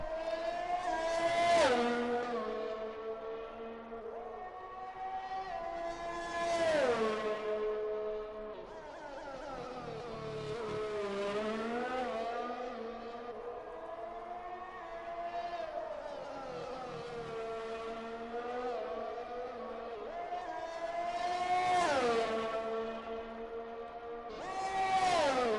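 Race car engine in a sim racing game on the Azerbaijan circuit, a continuous high-pitched whine that rises through upshifts and drops as the car brakes for corners, loud and alone.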